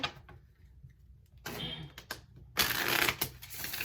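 Soft riffling and slapping of small tarot cards being shuffled in short bursts, close and quiet, with brief pauses between.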